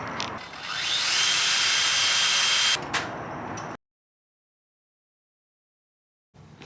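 A loud, steady high-pitched whine of a power drill match drilling aluminum fuselage side skins of an RV-10 kit aircraft through a template guide for a few seconds, then a short burst, followed by abrupt silence.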